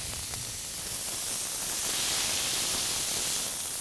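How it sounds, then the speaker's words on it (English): Smash burger patties hit a hot griddle and sizzle with a loud, broad, steady hiss. The hiss swells a little toward the end and has no talk over it. "We're gonna get them on the griddle, and I'm going to quickly smash them in the first 30 seconds or so."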